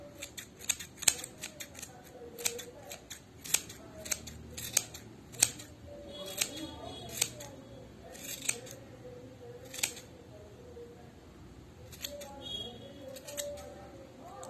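Scissors snipping and trimming a yarn pompom, with a series of close, sharp clicks and cuts that come in irregular bursts, quiet and alone.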